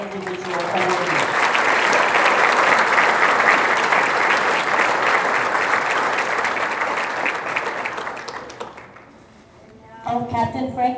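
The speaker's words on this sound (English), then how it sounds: "Please join me now in a round of applause for all of our individual awardees." Sustained applause from an audience at a military officers' awards ceremony, a dense even clatter of clapping for about nine seconds that fades out, then a voice begins speaking.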